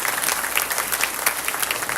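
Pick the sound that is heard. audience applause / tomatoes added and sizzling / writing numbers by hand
audience applause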